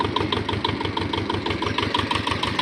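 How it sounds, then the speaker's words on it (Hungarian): A homemade farm machine, a rotary tiller, idles close by with a steady, rhythmic chugging engine beat that stays even and fairly loud throughout. "És innen már szépen kötyörög alapjáraton a gép."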